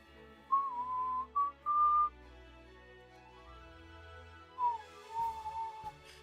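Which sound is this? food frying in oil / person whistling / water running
person whistling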